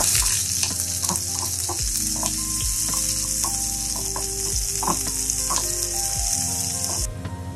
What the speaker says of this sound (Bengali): তো আমি এখন এটার মধ্যে পেঁয়াজ দিই।